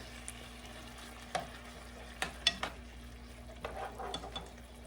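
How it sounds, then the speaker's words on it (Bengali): Chicken salad ingredients are stirred and mixed in a pan, with soft scraping and a few light clinks of a utensil against the pan over a faint low sizzle. "সবগুলো এটার সাথে ভালো করে মিক্স করবো"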